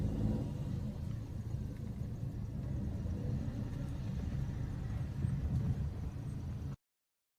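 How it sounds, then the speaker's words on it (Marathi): A car passes by on a bridge, heard as a low, steady rumble that holds for several seconds before cutting to silence, with no talk over it. "नाही का साईडने गाडी गेली ना, ब्रिज असं हलतोय"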